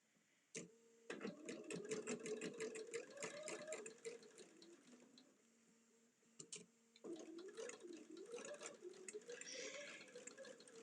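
A sewing machine stitches through a quilt block for a LeMoyne Star, running in close, rapid bursts with a pause in the middle before stitching resumes.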